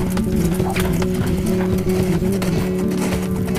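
A horse cantering in a training session, its hooves clip-clopping in a steady three-beat rhythm, close and continuous throughout with no voices.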